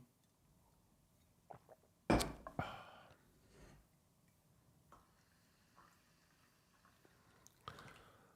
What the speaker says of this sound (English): Even love the sound when, I pour it and I drink it.